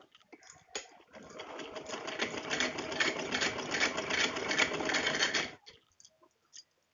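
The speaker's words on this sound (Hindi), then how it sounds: "इसके बाद हम सिलाई लगाते हैं।" A sewing machine stitching fabric pieces together for homemade underwear runs in a fast, steady whirring rattle for about five seconds, close and alone, then stops with a few faint clicks.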